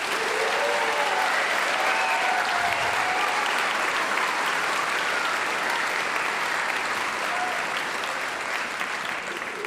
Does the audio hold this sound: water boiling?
no